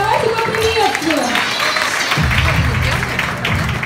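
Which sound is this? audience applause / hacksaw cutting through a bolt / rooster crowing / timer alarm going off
audience applause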